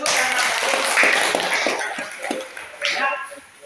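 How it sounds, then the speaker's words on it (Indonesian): Classroom applause from a group of students: a short burst of hand clapping, moderately loud and slightly washed out, tapering off after a few seconds, with voices talking over it. "Tepuk tangan"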